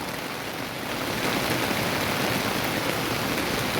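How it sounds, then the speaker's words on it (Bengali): Heavy rain falling in Gazipur, a dense, even hiss of downpour that holds steady and fairly loud for several seconds with no voices over it. "প্রচুর বৃষ্টি হচ্ছে।"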